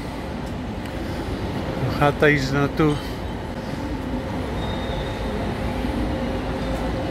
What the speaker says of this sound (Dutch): Dit is ook weer de regionale trein.